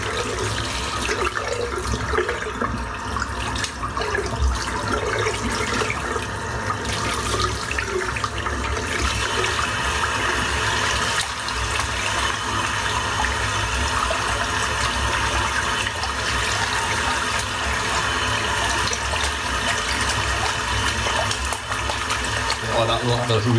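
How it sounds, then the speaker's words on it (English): Running water pours steadily from a tap as a shaving brush is rinsed beneath it, a continuous close splashing hiss under intermittent talk. "rinse the brush out."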